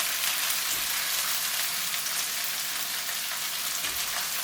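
Butter and oil sizzle steadily around chicken in a skillet, a continuous hiss heard close and alone with no talk.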